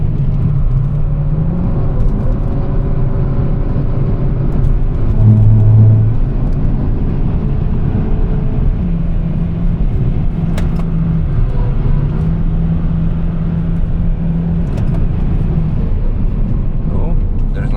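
Car engine at high revs on the Nürburgring, a steady loud droning rumble with tonal engine whine that shifts pitch as it climbs and drops, continuous throughout with faint talk underneath.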